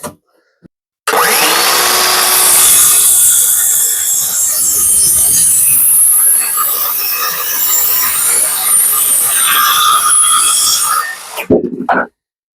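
Track saw cutting through wood while building a workbench, a loud continuous high whining blade roar lasting about ten seconds, starting and stopping abruptly, close by with no talking.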